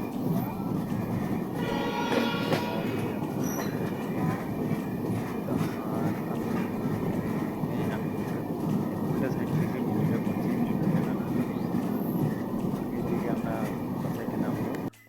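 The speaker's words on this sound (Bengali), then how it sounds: "দেখতে পাচ্ছেন ট্রেনে আমি চলে যাচ্ছি।" A passenger train rumbles steadily along the tracks with constant rattling and clatter from the carriages, loud and close throughout.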